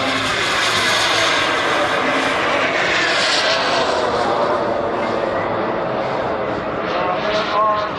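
US Navy Blue Angels jets at the 2024 New Garden Airshow give off a loud, sustained engine roar that swells and eases slightly over several seconds, with no break throughout.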